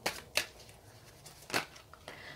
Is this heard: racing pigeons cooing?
no